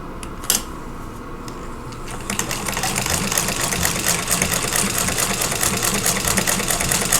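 A sewing machine stitches a quilt block piece, running in a steady fast mechanical whir with rapid needle clatter after a brief start, close and continuous.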